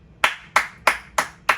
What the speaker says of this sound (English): I applaud Laureano.